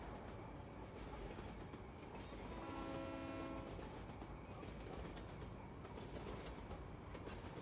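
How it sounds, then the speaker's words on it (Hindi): A local train passes at a distance, with a steady rumble of wheels on track, some squealing and a brief horn-like tone in the middle, fairly faint and with no voices. "जो ट्रेन जा रही, 12 बजे की लोकल है।"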